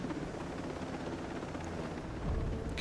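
Helicopter in the video game Ghost Recon Breakpoint, a steady droning rotor and engine roar that holds even throughout and swells louder in the final half second.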